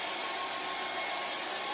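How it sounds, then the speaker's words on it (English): A hairdryer blows steadily and close, drying hairspray on a charcoal drawing, a continuous airy whoosh with no talk. "So I'm going to use a hairdryer."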